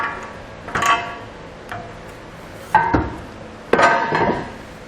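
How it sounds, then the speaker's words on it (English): A Curt trailer hitch is lifted into place over the muffler beneath a 2018 Mitsubishi Outlander, giving a few scattered metallic clunks and knocks close by, with quiet gaps between them. "Now with an extra set of hands, we can lift our hitch into place over the muffler."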